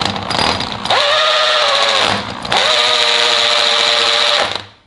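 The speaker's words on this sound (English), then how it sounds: "keep turning your drill motor and pumping oil until you see it coming out the front" A power drill turning an engine's oil pump to pre-lube a 440 engine whines loudly in two long sustained runs separated by a short pause, its motor pitch steady and strained.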